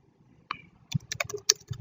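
Typing on a computer keyboard in Microsoft Word, a quick run of light, close key clicks in an uneven rhythm lasting about a second, with no voices.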